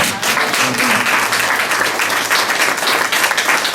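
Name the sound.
church congregation applause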